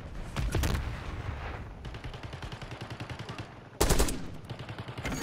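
Automatic gunfire in Call of Duty Black Ops 6, rapid machine-gun bursts of sharp cracks in a steady rhythm, loud and close, with a brief pause and a heavier burst near the end.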